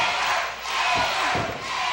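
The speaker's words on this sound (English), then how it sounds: "The crowd's cheering him on." A crowd at an independent pro wrestling show cheering and roaring in swelling waves, with a couple of dull thuds from the ring partway through.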